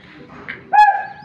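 Pigeons from a flock kept for sale give a short, fairly close coo that rises out of a low background murmur and fades again, a single call lasting about half a second.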